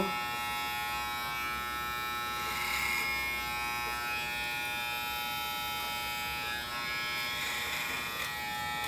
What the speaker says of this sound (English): When doing your clipper over comb, your guide is always going to be your previously cut hair.